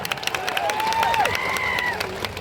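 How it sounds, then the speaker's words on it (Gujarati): A crowd claps and cheers at a gathering on a cricket ground in Jhagadiya. The applause is lively and continuous, with whistle-like tones sliding above the clapping. "લોકો માટે એકવાર જોરદાર તાળીઓ પાડી લો"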